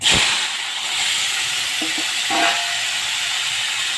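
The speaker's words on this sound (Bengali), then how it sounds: "আমি একটু উচ্ছে একটা আলু আর একটা বেগুন কেটে নিয়েছি আর কিছু কাঁচা লঙ্কা ছিঁড়ে নিয়েছি একসঙ্গে তেলের উপর দিয়ে দিলাম" Bitter gourd, potato, eggplant and torn green chillies hitting hot oil together: a loud initial hiss that settles into a steady bright sizzle, with a few faint clinks along the way and no talk.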